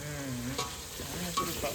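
Coriander-cumin powder tipped into a curry frying in a pan, with a spoon stirring through it, giving a steady close sizzle and scraping, a couple of small clinks standing out briefly.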